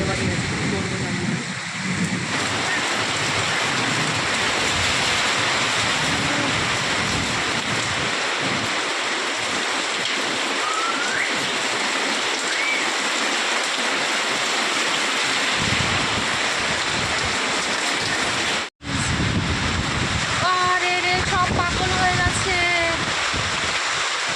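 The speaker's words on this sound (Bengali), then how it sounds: "বৃষ্টি সেই আর বৃষ্টি আর হাওয়া হচ্ছে" A continuous roar of heavy rain, hail and gusting wind over a courtyard fills the scene, steady and broad, with a brief dropout and faint tones near the end.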